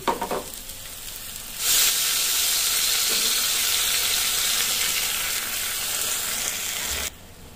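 Onion, garlic and bagoong shrimp paste hit hot oil in a pan, starting after a quiet opening with a loud, steady broadband sizzle that holds close and even for several seconds before cutting off abruptly near the end.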